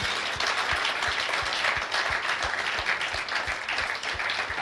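Church congregation applauding at a Sunday service: dense, steady clapping from many hands fills the room without pause, fairly loud and close, with faint low thumps underneath.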